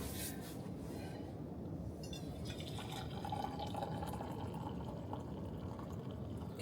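Coffee pours steadily into a cup at a windy campsite, a soft continuous trickle with rising pitch, quiet and close, with faint background noise and no talking.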